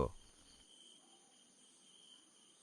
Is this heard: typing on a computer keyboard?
no